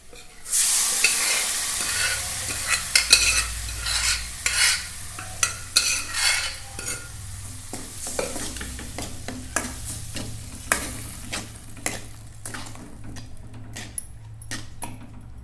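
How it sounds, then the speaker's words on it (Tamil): Mashed tomato poured into a hot pan for tomato bajji and stirred, a loud sizzle up front settling into steady frying with scraping stir strokes and light utensil clicks throughout, no voices. "இப்போ நம்ம மசிச்சு வச்சுருக்க தக்காளி இதில் ஊற்றிக்கலாம்."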